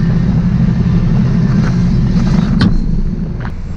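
Farm tractor engine revving up on a frigid cattle-chore morning, a loud low rumbling drone that holds steady before easing off near the end, with faint wind noise and no talk.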